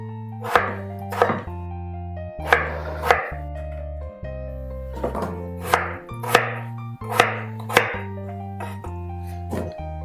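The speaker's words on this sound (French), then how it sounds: "vous venez les couper en morceaux" Repeated knife chops cutting vegetables into pieces on a cutting board in quick pairs and short bursts, crisp and close, with a low hum underneath.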